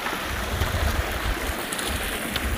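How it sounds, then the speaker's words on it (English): A creek along the Pacific Crest Trail near Warner Springs flows with a continuous, rushing burble, moderately close and steady with no voices. "There's the creek again."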